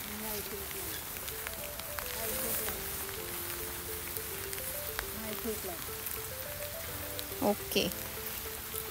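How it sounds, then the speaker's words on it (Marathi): Steady rain falls at a farmhouse in Wada, Palghar, a continuous hiss with patter on surfaces, while someone talks over it throughout and a few brief knocks rise near the end. "आणि छान पाऊस सुरू आहे"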